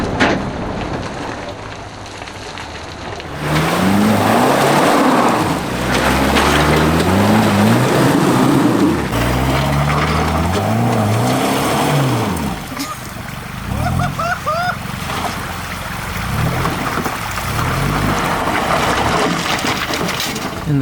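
A Land Rover Defender works its way off-road through New Zealand terrain, its engine revving repeatedly with rising and falling pitch amid rough rumbling and splashing, close and loud, with brief voices in the background.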